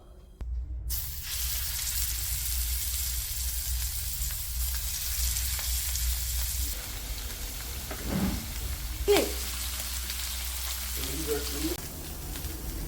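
Fish fries in a pan with a steady, close sizzle running throughout, with a few brief clinks and faint background sounds but no talking.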